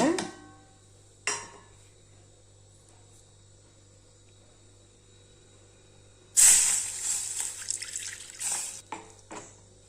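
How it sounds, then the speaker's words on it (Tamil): Coconut milk and wheat milk poured into a kadai for wheat halwa: after several seconds of near quiet, a loud rush of pouring liquid begins and carries on with stirring and splashing to the end. "இப்போ இந்த தேங்காய் பாலும் கோதுமை பாலும் கலந்து வச்சுருக்கோம் இல்லைங்களா, இதை ஊற்றி நல்லா கிளறலாங்க."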